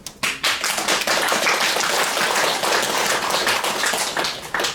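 Audience applause fills a Buddhist Dharma talk for Buddha's Birthday, a dense, steady wash of many hands clapping close and loud throughout, with no talking over it.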